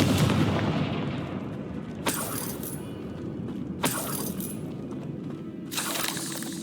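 Confringo blasting spell explosions in Hogwarts Legacy, three sharp crackling bursts with shattering debris spaced a couple of seconds apart over a low ambient rumble, fairly close and moderately loud.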